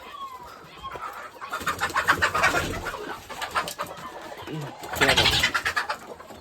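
Free-range country hens on a farm, scattered clucks and soft bird calls rising and falling in bursts, with someone talking over them.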